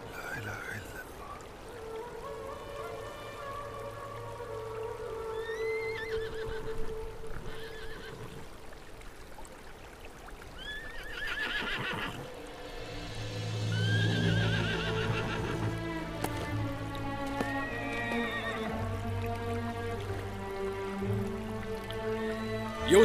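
Osman's horse neighs in several whinnying bursts, some shrill and trailing, with lower snorts and clip-clop between them, moderately near over a soft background wash.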